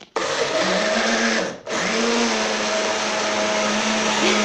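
A kitchen blender blends a smoothie with honey: a loud, steady motor whir that briefly drops out for a moment, then resumes and runs evenly to the end.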